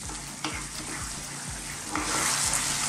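Artichoke cream sauce sizzles in a pan while a utensil stirs it in steady, rhythmic strokes, the frying hiss rising louder near the end.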